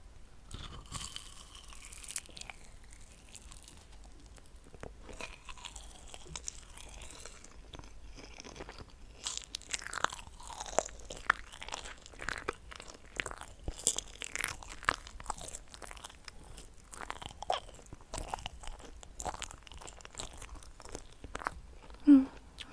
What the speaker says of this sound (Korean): 마시멜로 한 번 먹고 다시 계속 얘기하도록 하자.